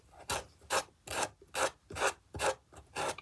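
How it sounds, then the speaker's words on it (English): A micro spatula rubs along cord strands to straighten them in eight close, evenly spaced scraping strokes, each a short raspy swipe with quiet pauses between. "I use this great micro spatula to just straighten out all the strands in these cords"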